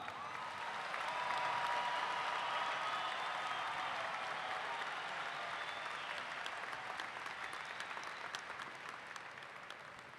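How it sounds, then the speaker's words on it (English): Sustained applause from a commencement audience at Murray State University, honoring the last graduate; dense, steady clapping from a large crowd fills the whole stretch, slowly thinning toward the end. "a big round of applause."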